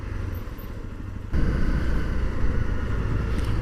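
BMW car passing on a street in Japan, heard from a motorcycle, an engine rush that swells abruptly and stays loud and close against road noise for the rest of the moment.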